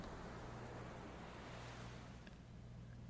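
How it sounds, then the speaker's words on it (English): Ocean waves ambience from the video game Aoi Shiro, set near a seaside cave: a constant, broad surf rush with a low rumble underneath, steady and unbroken and slightly easing at the end. "Since I could hear the sound of the waves"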